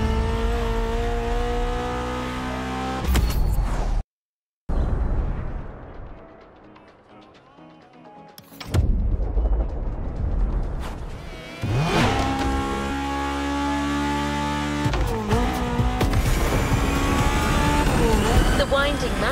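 Racing cars speed along winding mountain roads in Hawaii in The Crew Motorfest, their engines revving and accelerating loudly with whirring tones, cutting out briefly and dipping quieter in the middle before roaring back, under steady talk.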